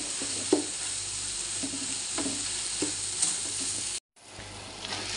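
Filipino spaghetti sauce with beef and Maggi beef cubes is stirred in a hot pan, a steady sizzle broken by soft utensil scrapes and cut off by a brief gap near the end.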